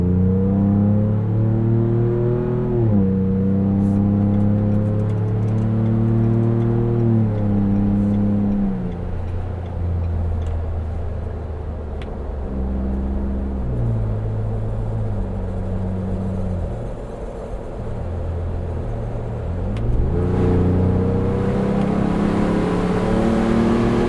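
Ford Bronco with a 2.7L V6 and MRT axle-back exhaust, heard from inside while driving, engine droning loudly as it rises through gears with distinct shifts, easing off midway and then pulling hard again.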